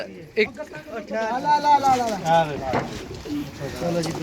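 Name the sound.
pigeons cooing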